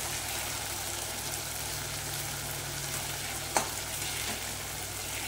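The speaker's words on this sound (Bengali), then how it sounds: "এইবার এই মশলাটা দিয়ে ভালো করে কষবো।" A spice paste of ground spices, salt and tomato paste frying in oil in a pan for a chicken dish: a continuous even sizzle with stirring, and one brief clink partway through.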